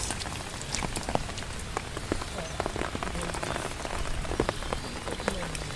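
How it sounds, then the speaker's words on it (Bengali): Heavy monsoon rain pours down steadily in a rural village, a dense hiss of drops striking surfaces with scattered louder splats, close and continuous throughout. "অনেক পরিমাণ বৃষ্টি হচ্ছে অনেক অনেক"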